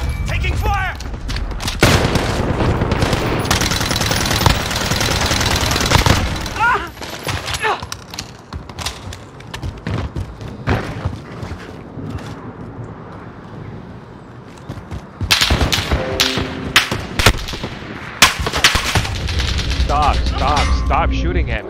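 Heavy gunfire crackles in loud, dense bursts and volleys, thinning to scattered shots in the middle before intensifying again, with voices talking beneath it.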